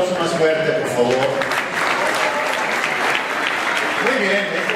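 Loud, sustained applause from an audience at a human rights journalism award ceremony in Mexico, dense clapping filling the room with a few voices calling out early on, steady throughout.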